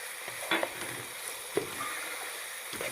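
A pan of cumin powder, black pepper, garlic powder, cinnamon powder, chili sauce and soy sauce is roasted for a chicken vegetable kachori filling. A low steady sizzle is broken by a few spoon scrapes.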